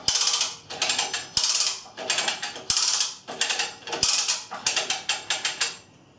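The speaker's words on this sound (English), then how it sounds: "put the direction lever in the up position and lift the load by pulling the lever." LiftinGear 1500 kg lever hoist ratcheting as its lever is pulled, a loud close series of rapid metallic clicks in repeated bursts, each pull ending with a sharp knock.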